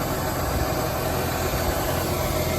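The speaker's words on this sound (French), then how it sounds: "on a toujours la turbine qui fait du bruit, ça ne change pas" A pneumatic seed drill's turbine runs beneath a tractor while sowing carrots in sandy soil, making a steady, loud, unbroken mechanical drone with an engine-like rumble throughout.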